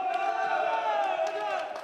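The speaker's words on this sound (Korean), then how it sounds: "한국민이 서브를 넣을 때 이 함성 소리가 여기까지 들려왔는데" A crowd's loud roar and cheering rise as a player serves in a Korean university men's volleyball league match, sustained and steady, heard under a commentator's speech.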